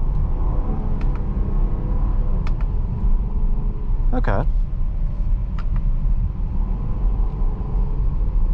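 Jeep Grand Cherokee L Overland engine and road noise while driving, a steady low rumble throughout with faint clicks over it, heard from inside the cabin with a person speaking briefly.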